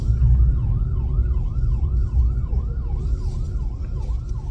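An ambulance siren wails in a steady repeating sweep as it passes along a street, loud over heavy low traffic rumble, with no talking.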